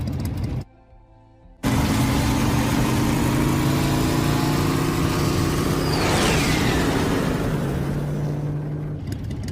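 Motorcycle engine idling in an anime scene, a steady low mechanical hum that holds close and loud for most of the stretch after a brief quiet gap, with a passing swish midway and no talking.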